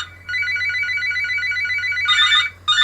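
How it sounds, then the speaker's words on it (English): A mobile phone rings in a small 8x6 workshop, a bright warbling electronic tone repeating steadily for about two seconds, pausing briefly, then starting again, loud and close. "Sorry, that's my phone again."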